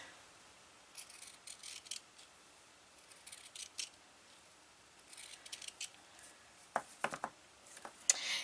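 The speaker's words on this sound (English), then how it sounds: "I'm using some pinking shears to cut a little bit of that." Pinking shears snip through fabric for a gingerbread man ornament in a quiet craft setting, a series of close, crisp cutting strokes in irregular clusters with short pauses between them.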